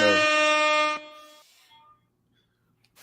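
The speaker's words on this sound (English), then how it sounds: "But I give you the air horn though." A single loud air horn blast with a buzzy, harmonic-rich tone holds for about a second, then cuts off and fades into near silence, with a faint noise at the very end.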